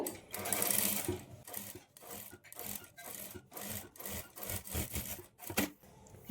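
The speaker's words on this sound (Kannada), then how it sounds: "ಲೈನಿಂಗ್ ಮೇಲೆ ಎಡ್ಜಿಗೆ ಕಿನ್ನರಿ ಸ್ಟಿಚ್ ಹಾಕ್ಕೊಳ್ಬೇಕು" A sewing machine runs a kinnari stitch along the edge of a blouse lining, a close, rapid rhythmic chatter that pulses in uneven short runs.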